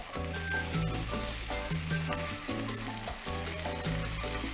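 Ground beef with smoked paprika, dried oregano and cinnamon sizzles steadily in a pan, a continuous close frying hiss with no voices over it.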